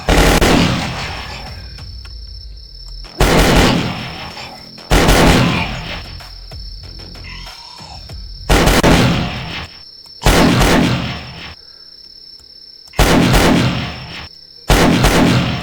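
Heavy bursts of gunfire in the video game Last Stand, loud repeated volleys every couple of seconds with ringing decays between them.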